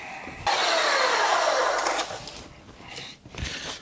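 A belt sander grinds against the wood of a farm sink cabinet during installation, starting abruptly with a loud, steady broadband rasp that holds for about two seconds, then fades and sputters through brief lighter passes.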